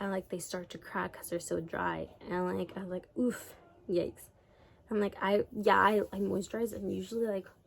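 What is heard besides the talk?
No everyday noise stands out behind the speech.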